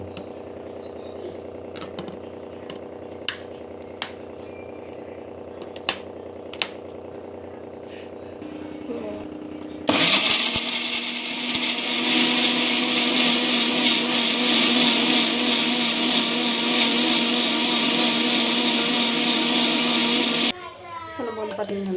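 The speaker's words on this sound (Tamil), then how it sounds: "மிக்சியில் போட்டுட்டு அரைச்சிக்கலாம்" A mixer grinder whirs loudly and steadily as it grinds ingredients for a protein-rich breakfast dish, a dense, constant motor roar lasting about ten seconds before stopping abruptly; soft clicks and kitchen handling come before it.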